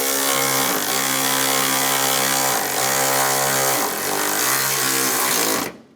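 A power tool whirs loudly and close while tightening headlight bolts on a 2015-2019 Lincoln MKC, a steady high motor whine with small pitch dips, then it cuts off abruptly at the end.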